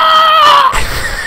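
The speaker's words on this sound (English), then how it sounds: "Almost sounds like a filthy peasant screaming for his life on the edge of a mountainside." A man screams in a strained, high, wavering cry for under a second, loud and close, then breaks off into rougher, lower noise, within a multiplayer session of the strategy game Europa Universalis IV.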